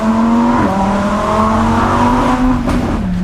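An off-road Lamborghini Huracan with a naturally aspirated V10 holds a loud, steady engine note that dips briefly and climbs again, with faint tire noise underneath.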